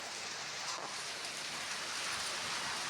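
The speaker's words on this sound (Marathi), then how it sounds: "अवकाळी पावसानं कोकणाला झोडपलाय" Dense, steady unseasonal rain in Konkan hisses continuously, a broad wash of falling water with no pauses and no voices.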